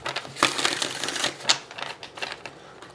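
Rapid crisp riffling of cards, a few quick bursts of flapping and clicking over about three seconds, close and moderately loud.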